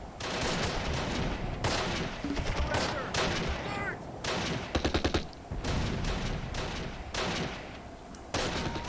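Rifle and mortar fire from soldiers in a World War II strategy game battle at St. Marie du Mont, dense overlapping gunshots and blasts throughout with a few sharp close bursts, no talk.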